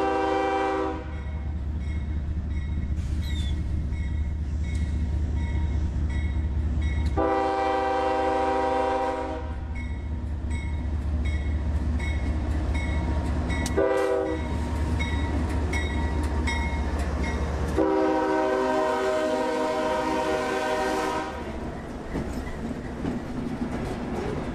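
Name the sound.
CSX freight train B341 hauled by two 6-axle GE wide-cab locomotives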